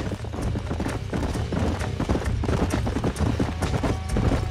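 Horses in Red Dead Redemption gallop in a dense, steady clip-clop of hooves that runs loud and close throughout, with a faint whinny possible in the mix.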